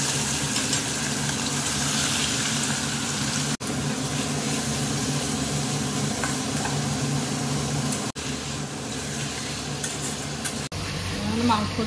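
Chicken pieces frying in hot oil with whole garam masala in a pan, a loud continuous close sizzle with stirring scrapes, broken by brief cuts, steady throughout without talk.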